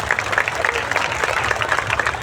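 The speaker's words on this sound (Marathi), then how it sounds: "त्याच्यासाठी खरोखरच जोरदार टाळ्या झाल्या पाहिजे" A theatre audience claps for child actors after a stage play, steady dense applause filling the hall at moderate loudness.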